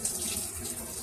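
A Whirlpool top-load washing machine draws water through its inlet valve in a short, steady hiss of flowing water, close and fairly quiet.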